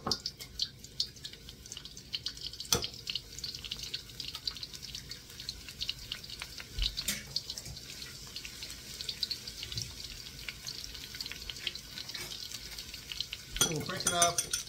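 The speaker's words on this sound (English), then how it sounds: "we'll break the two eggs" Eggs sizzle and fry steadily in hot garlic oil for a Thai shrimp pad thai, a close continuous crackle with occasional clicks and utensil taps and a faint voice in the background.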